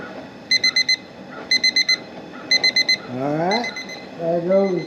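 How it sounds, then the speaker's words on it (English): A kitchen cooking timer goes off during a Beaufort stew shrimp boil, giving three quick bursts of four sharp beeps each. A voice then starts talking. "there goes the alarm."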